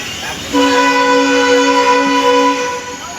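A train horn sounds one long, steady blast for about two seconds over a rumbling background as the train departs Howrah station, then cuts off.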